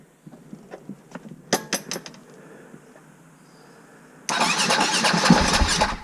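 BMW GS or G450X motorcycle being primed and started: a few faint clicks and short starter bursts, then the engine catches and runs with a steady, loud rumble for the final couple of seconds.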